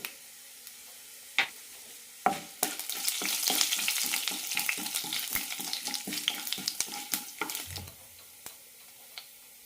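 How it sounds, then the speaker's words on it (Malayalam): Mustard seeds, urad dal, fenugreek and cumin fry in oil in a pan, sizzling and spattering, with a burst of rapid popping crackles building and fading, plus a few utensil knocks. "ഇതിലേക്ക് കടുക് ഇടാം കടുക് പൊട്ടിക്കഴിയാറായിട്ടുണ്ട്"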